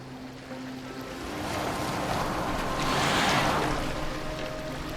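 A boat sails on water in Assassin's Creed Valhalla, with a steady wash of waves and wind swelling to a broad rushing surge midway and then easing, with no voices.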